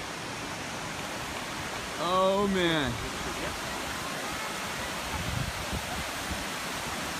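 Steady roar of a large waterfall at Plitvice Lakes in Croatia, a continuous broadband wash of falling water heard up close while someone speaks briefly over it.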